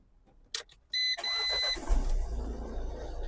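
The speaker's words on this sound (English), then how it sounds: "I'll start the car." A 2017 Renault Trafic van with a DPF and oil dilution fault starting up. A click and a steady warning chime come first, then the engine cranks and catches into a low idle.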